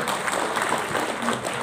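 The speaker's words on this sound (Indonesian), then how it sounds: "Beri tepuk tangan untuk Mas Dani." Audience applause at the closing of a national seminar in Jakarta, given in honour of Mas Dani: a short burst of steady, dense clapping from a seated crowd, with faint voices mixed in.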